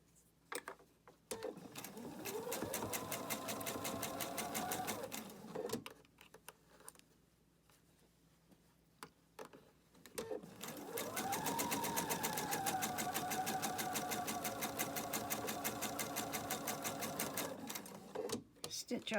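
A sewing machine stitches fabric in two long runs of rapid, even needle chatter, separated by a quiet pause with a few clicks, up close and loud.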